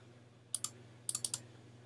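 Quiet typing on a computer keyboard, two quick keystrokes and then a short burst of four more crisp clicks over a faint steady hum.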